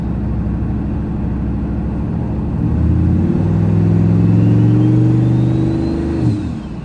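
Turbocharged car engine with a freshly rebuilt motor and a blow-off valve revs up from a steady idle, holding a loud droning pitch before dropping back with a brief release at the end.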